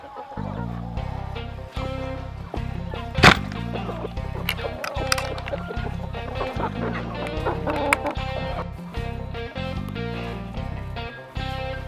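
Backyard chickens cluck and murmur continuously nearby, with overlapping clucks and occasional sharper squawks over a steady rhythmic mechanical thumping, as turkeys and ducks share the same pen.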